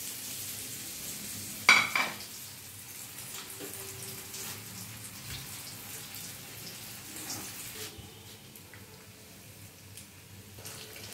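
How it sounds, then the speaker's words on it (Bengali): Egg cheese balls deep frying in hot oil give a steady bubbling sizzle, opening with a sharp clatter and settling into a low, even fry that lasts to the end. "কম আছে ভালো করে উল্টে পাল্টে একটু সময় নিয়ে ভেজে নিতে হবে।"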